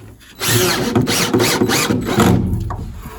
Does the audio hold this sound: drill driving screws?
yes